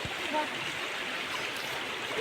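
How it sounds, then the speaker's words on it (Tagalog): Shallow creek water flows and trickles steadily as people wade through it. The sound is a close, continuous rushing burble with faint voices underneath. "maglakad sa tubig ng sapa"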